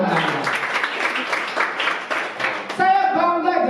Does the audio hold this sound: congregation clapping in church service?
yes